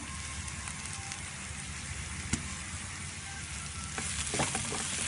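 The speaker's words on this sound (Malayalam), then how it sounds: "ഫ്രൈ ചെയ്ത് വെച്ച ചെമ്മീൻ നന്നായി യോജിപ്പിച്ചെടുക്കാം." Fried prawns tossed with masala in a hot pan give a steady sizzle under scraping stirs, with a few louder clatters near the end; no one speaks.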